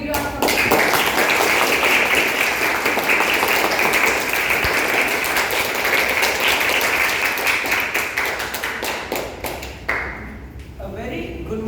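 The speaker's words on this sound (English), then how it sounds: "Let's have a big round of applause." Audience applause welcoming a Grade 9 student speaker at a school talk event, sustained dense clapping for about ten seconds, then fading as a voice begins.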